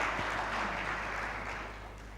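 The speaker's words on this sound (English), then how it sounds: "An extra round of applause for our PSST." An audience at an alternative investment conference opening gives a round of applause, a dense, soft wash of clapping heard from a distance that slowly fades over two seconds.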